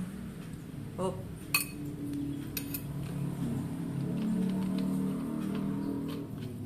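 A metal spoon clinks against a glass while Tropicana syrup is spooned in for a light fasting-break drink, giving a few bright, brief chinks over a low, steady background hum.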